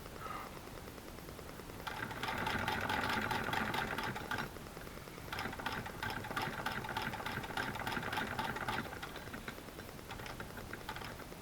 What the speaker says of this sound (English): So what I'm doing is chain piecing.